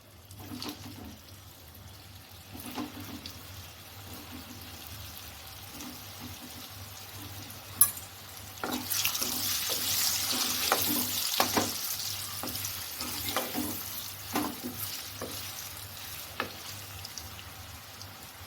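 Raw banana and cheese koftas frying in hot oil in a home kitchen, a steady soft sizzle that grows louder and crackly midway, with occasional clinks of a utensil stirring the pan.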